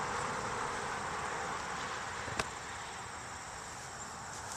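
Honey bees swarm around an open hive during honey pulling, producing a dense, steady buzzing drone that fills the air continuously, with one brief sharp click partway through.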